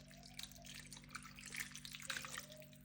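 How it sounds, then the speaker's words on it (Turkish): Tomato paste and dill water is poured into a cooking pot, a faint, soft splashing trickle of liquid lasting a few seconds with no talk. "Evet şimdi salçalı dereotlu suyumuzu da dökelim."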